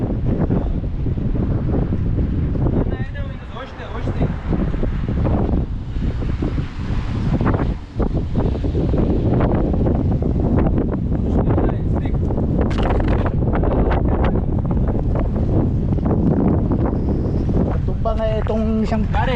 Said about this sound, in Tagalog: Lakas yung hangin, sunstorm ata.